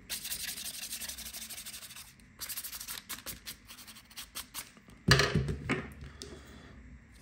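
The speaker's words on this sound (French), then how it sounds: "On remet un petit coup de brossouille, histoire de" A Nintendo 3DS XL being scrubbed clean with a small brush, steady close rubbing strokes in bursts with short pauses, then a louder, brisker scrubbing burst near the end, no talking.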